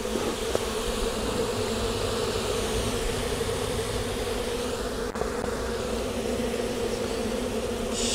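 Honey bees hum in a loud, even drone from an opened hive close by, one dense continuous buzz with no voices.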